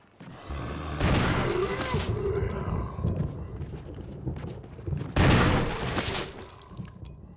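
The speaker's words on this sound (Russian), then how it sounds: "Выстрел в упор из ружья" Two loud, booming shotgun blasts about four seconds apart in Resident Evil HD, each followed by a ringing tail and rumbling game ambience.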